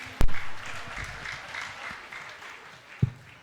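A church congregation applauds and cheers in a broad, sustained wash of clapping, with a couple of sharp, close thumps standing out.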